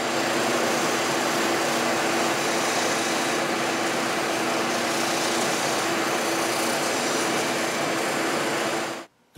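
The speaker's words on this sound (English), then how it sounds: "Now we'll get into some sanding." A power sander works on wood for a test tube vase, giving a loud, steady, broadband whir that holds nearly unbroken for about nine seconds before cutting off abruptly at the end.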